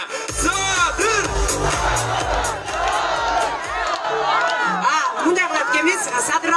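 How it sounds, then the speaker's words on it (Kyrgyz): A large rally crowd shouts and chants the name Sadyr in loud, rising waves of massed voices, an open-air roar of cheering that fills the whole stretch. "Дагы бир ирет катуураак колдогонубузду билдирип кыйкыралычы."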